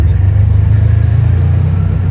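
A quad bike or moped passing on a road on Gozo, Malta, a loud, close, steady engine rumble with a buzzing mid-range drone throughout.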